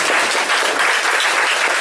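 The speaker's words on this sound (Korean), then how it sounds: "다시 한번 큰 박수" Audience at a book concert held in a church claps steadily, a dense close burst of applause lasting a couple of seconds with no talk over it.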